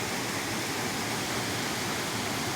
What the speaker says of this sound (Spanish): cómo baja el cauce por ahí, por esos saltos